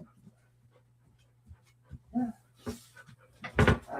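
A Labrador mix dog pants in quick irregular bursts and lets out a few soft whimpers, close by in a quiet room, with one louder burst near the end.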